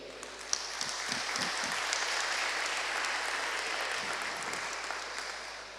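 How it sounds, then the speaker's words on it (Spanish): Church congregation clapping during a sermon, a steady wash of applause lasting several seconds over a low hum, with a few murmured voices near the start and later on. "¿Le puedo dar un aplauso si es que está entendiendo?"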